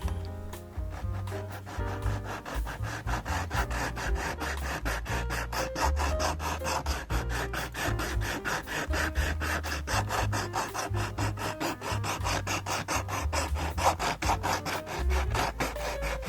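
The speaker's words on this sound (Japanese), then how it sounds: "最初は中目のヤスリで削って、途中で細目や油目に切り替えています。" A hand file scrapes over the louvers of an old Katsumi KiHa 82 model train car in fast, even back-and-forth strokes, close and continuous with no voices.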